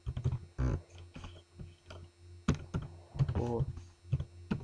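Close, fairly loud tapping on a computer keyboard comes in uneven clusters of keystrokes with brief gaps, with faint murmuring underneath.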